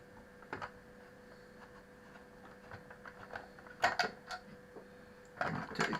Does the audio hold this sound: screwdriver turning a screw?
yes